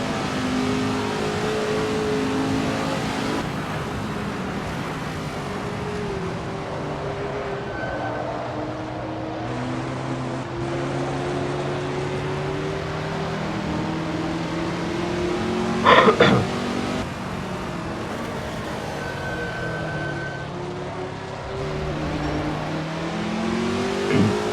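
Race car engine at Le Mans in a racing video game, lifting and coasting: a continuous drone whose pitch falls and rises as the throttle eases and returns, with a brief sharp burst midway.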